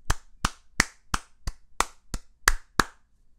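Applause from a single pair of hands: nine sharp, close claps at an even, slightly quickening pace, standing alone without talk.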